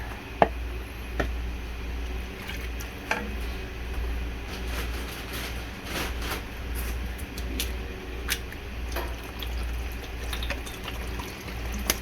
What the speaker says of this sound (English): And finish off with some water.